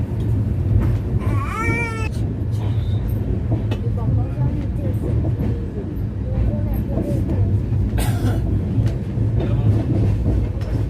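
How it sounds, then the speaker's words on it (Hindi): A 12067 Guwahati–Jorhat Town Jan Shatabdi Express pulls out of Dimapur railway station with a steady, loud rolling rumble. Scattered squeals and higher sweeps rise above it, and the noise continues throughout. "सो 5 मिनट्स के होल्ड के बाद now we are departing from Dimapur railway station"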